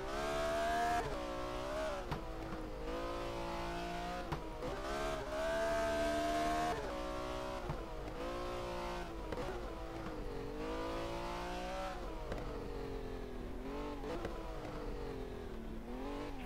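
A race car engine in the video game Race 07 revs up and down through repeated gear shifts, a continuous close whine rising and falling in pitch, with tires squealing at times and no talking.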